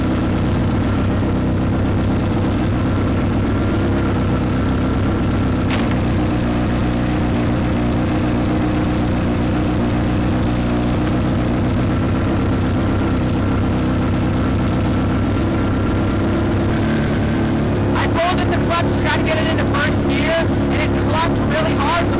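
A Roketa go-kart fitted with a Honda CBR1000F engine drones steadily at close range, then breaks into sharp, rapid revving bursts near the end.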